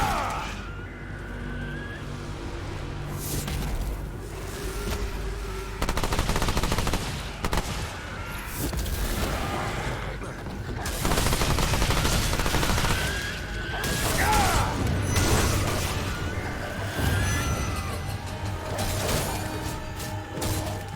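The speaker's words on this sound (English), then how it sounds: "I can shoot the bats down" Repeated bursts of gunfire as bats are shot down in Remnant 2, with loud automatic volleys and single shots over a busy game soundscape that rises and falls across the span.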